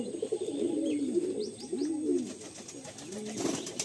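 Pigeons in a Madrasi pigeon loft coo repeatedly in low, rolling phrases close by, with a few faint higher chirps in the background and no talking.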